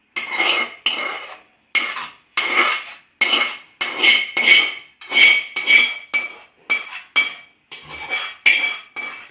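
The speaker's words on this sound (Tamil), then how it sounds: "அடுப்பில் வைக்கிறதுக்கு முன்னாடி லைட்டாக வந்து தட்டி எடுத்துக்கலாம்." A pressure cooker filled with chocolate cake batter is tapped repeatedly, giving a steady series of bright metallic knocks and rattles, close and loud, with brief pauses between bursts.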